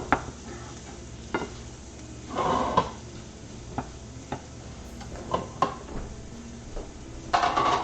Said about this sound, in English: Turn the heat up a little bit, give it a stir.